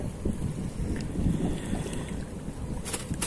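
Wind gusts buffet a boat out mullet fishing, a steady low rumble of wind noise with faint splashes and creaks near the end.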